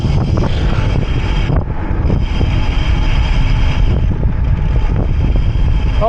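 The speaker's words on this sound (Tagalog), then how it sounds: "Malakas ang hangin." Strong wind buffets the microphone while a rider heads down a long steep descent near Sampaloc on the Sierra loop, a loud continuous roar with gusty surges and no speech.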